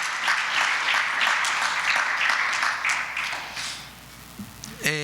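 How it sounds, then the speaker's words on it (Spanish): Church congregation applauding during a Spanish-language service, dense sustained clapping that fades toward the end before a brief burst of louder sound, with faint voices mixed in. "Denle un aplauso al Señor, amados hermanos."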